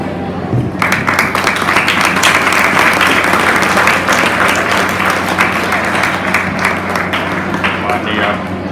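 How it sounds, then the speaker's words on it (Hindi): A hall full of students and staff at a Kendriya Vidyalaya Teachers' Day celebration breaks into loud, sustained applause welcoming the chief guest, dense clapping that swells in after a brief moment and carries on steadily to the end. "आज के मुख्य अतिथि के स्वागत में सब लोग जोरदार तालियां बजा दें"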